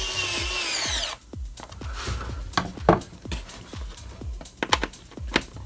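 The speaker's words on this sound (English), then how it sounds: "it has a decent enough amount of torque to tighten these screws down" Power screwdriver driving screws into a model aircraft wing, a short whirring burst at first, then a string of sharp clicks and ratcheting knocks up close, no talking.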